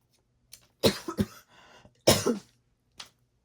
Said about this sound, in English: I've had this cough for a while now